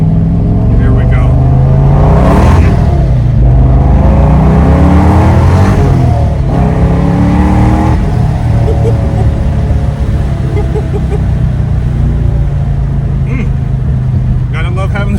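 A supercharged Ford Mustang GT on street tires roars hard under acceleration, loud and close from inside, the engine note climbing and dropping through gear shifts, with a person's voice over it.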